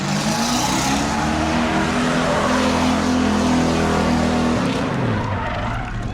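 Race cars at New Smyrna roaring loudly through the finish off turn four, a sustained dense engine drone with tire noise, close and overwhelming, easing off at the end.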